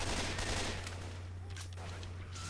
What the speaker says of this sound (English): Fireworks! Are we not supposed to do that? Doesn't that attract them?